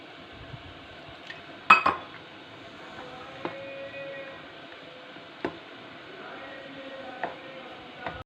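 A spoon or whisk stirs jalebi batter in a bowl, producing sparse, distinct metallic clinks and taps against the bowl over a quiet background, with one louder cluster of knocks early on.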